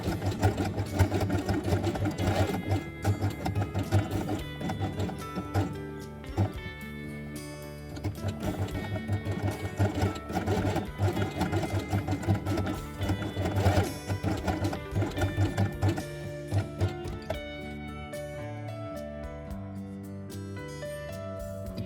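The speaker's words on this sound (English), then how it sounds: "Then sew them twice on the machine with white thread." A sewing machine stitches fabric pieces for a spider page with white thread, running in a steady rapid mechanical whir with a dense rhythmic needle clatter throughout, close and continuous, with no voices.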